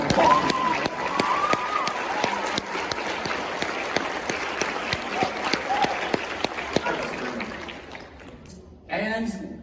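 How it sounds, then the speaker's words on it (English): A concert audience at a symphonic winds performance gives a round of applause, with loose, distinct claps spread across the room, fading before a voice briefly speaks at the very end. "Round of applause."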